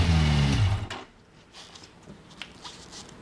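A Kawasaki Versys 1000 motorcycle with a Holeshot slip-on exhaust runs for under a second with a low, throbbing engine note, then drops away to near quiet with faint handling noises.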